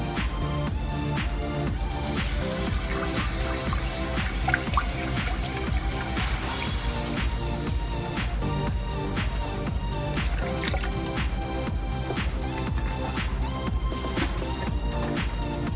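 Whole milk pouring into a pot from a half-gallon jug, a soft continuous liquid trickle with faint glugs, fairly quiet and close, running throughout without talk.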